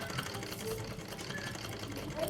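A sewing machine runs slowly and steadily without thread, stitching over chalk-marked lines in a boutique workroom, with a soft continuous whirr throughout.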